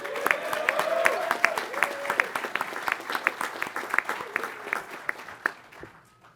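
Applause at an Air Force undergraduate pilot training graduation as a captain receives his award, a crowd's clapping with distinct sharp hand claps that gradually thins and fades out, with a voice briefly audible early on.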